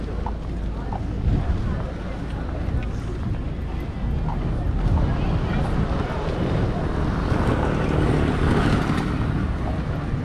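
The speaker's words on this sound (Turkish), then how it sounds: "Saatlik tekne turu geliyor." An hourly tour boat nears the shore at Eski Foça, its engine a low broad rumble that swells slowly over steady wind noise on the microphone and the wash of water, with people talking nearby.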